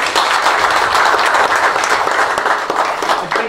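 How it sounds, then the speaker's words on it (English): Audience at an April 2018 conference at the University of Zimbabwe breaks into sustained applause, a dense wash of many hands clapping steadily throughout with no talking. "Can we give another round of applause, please?"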